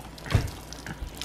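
Water poured over a child's hair for rinsing at a campsite, a brief splashing pour of about a second with a soft gurgle, close and fairly quiet.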